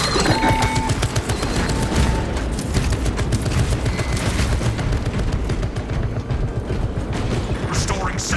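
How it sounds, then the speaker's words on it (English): Tarantula sentry gun in Warhammer 40K Space Marine rattles off a sustained, loud barrage of rapid automatic fire amid dense battle noise, with a voice speaking over it. "Activating Tarantula Sentry Gun."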